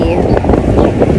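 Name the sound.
wind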